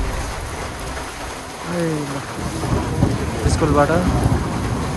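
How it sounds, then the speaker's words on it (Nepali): Heavy rain pours steadily in the hills of Sailung in Dolakha, Nepal, with a deep thunder rumble rolling underneath and brief voices in the downpour. "अब यहाँ त पुरा पानी परिरहेछ।"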